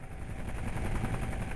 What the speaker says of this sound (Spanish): lo que produce una ráfaga constante de viento en el interior del helicóptero.